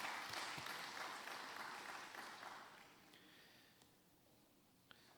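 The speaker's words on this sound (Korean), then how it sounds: "우리 박수로 화답하겠습니다" Congregation at a Wednesday church worship service applauds after a women's mission society choir's praise song, a dense wash of clapping that is loud at first and gradually thins and fades over several seconds.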